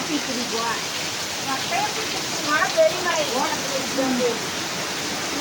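Steady, dense rain pours down in a constant hiss, with faint voices murmuring under the downpour.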